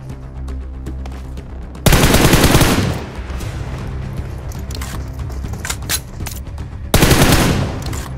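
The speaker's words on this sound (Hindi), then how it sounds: "स्क्वाड हाउस से फाइट की आवाज आती है।" Automatic gunfire rattles through a firefight in a mobile battle royale game, with two loud, dense bursts of shots over steady mid-level mechanical clatter and scattered single cracks in between.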